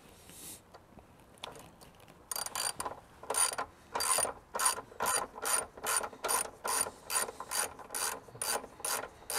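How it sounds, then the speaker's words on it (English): A ratchet fitted with a 13 mm long socket loosens the battery hold-down bolt on a Chevy Colorado. Close, steady clicking runs in quick repeated bursts, quiet at first and then regular and rhythmic. "the next tool that you're going to need is a 13 millimeter long socket to get this"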